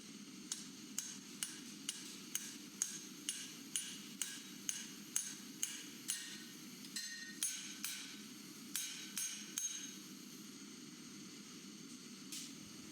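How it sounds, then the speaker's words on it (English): A crosspeen hammer strikes steel on an anvil in a rhythmic series of light, ringing blows, about two per second with a brief pause near the end, over a steady background hiss. "Using the corners of the anvil and my crosspeen, I lightly forge the material left between these fullers."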